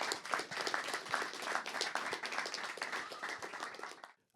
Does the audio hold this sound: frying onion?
no